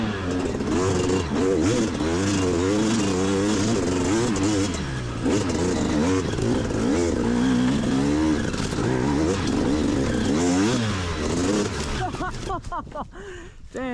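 A motorcycle with a new exhaust revs and runs close by on a ride, a loud continuous throaty drone with repeated rising and falling revs over about fourteen seconds, trailing off near the end.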